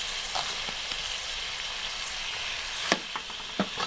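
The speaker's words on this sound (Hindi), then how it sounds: "अब हम इसे भूनना है अच्छी तरह से तकरीबन 4 से 5 मिनट के लिए।" A spinach and radish curry frying in a pan makes a close, steady sizzle with a few sharp stirring scrapes and small spatters, and no voices are heard.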